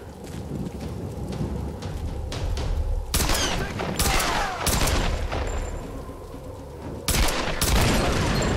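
Gunfire in the Tomb Raider 2013 video game, with several loud, sharp bursts of shots standing out over a steady bed of rain, wind and water ambience.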